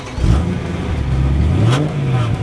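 A BMW M3 with a high-revving V8 engine accelerates, its steady mid-pitched drone rising and shifting pitch continuously, loud and close throughout with no talking.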